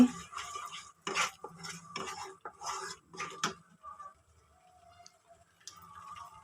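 Spoon stirring and scraping a bottle gourd milk mixture in a pan, several quick metallic clinks and scrapes, then quieter, sparser taps with light sizzling.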